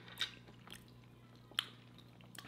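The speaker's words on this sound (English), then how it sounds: "Got a loud crunch." Someone chews homemade deep fried food with a coating, two sharp crisp crunches standing out against quiet background hum, with softer mouth sounds between them.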